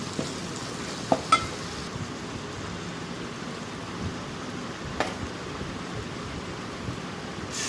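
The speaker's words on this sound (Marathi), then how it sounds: "आगरी तिखट मसाला आणि चांगलं परतून घ्यायचं आपल्याला" Agri spicy masala with turmeric being sautéed in a pan, a soft, steady sizzle with a few light stirring clicks and knocks scattered through it.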